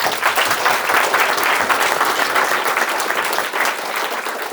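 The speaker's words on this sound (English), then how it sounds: "So applause." Steady, loud applause from an audience at a student startup competition prize-giving, dense clapping filling the room without a break and no voices on top.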